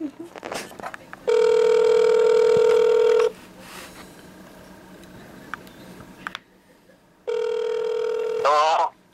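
Telephone ringing for an incoming call: two long, loud electronic rings separated by a pause, with quiet indoor talk and small noises between them.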